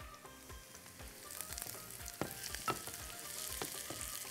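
Onions caramelize in a frying pan, a soft close sizzle with repeated scraping strokes of a spoon stirring at an irregular rhythm, no voices.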